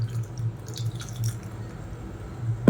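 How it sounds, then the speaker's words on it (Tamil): Water from a rinsed mixer jar is poured into freshly ground coconut-free chutney, a short soft splash and trickle with low background hum, ending in a brief clatter. "இப்போ மிக்ஸி அலசிட்டு தண்ணி சேர்த்துக்கலாம்."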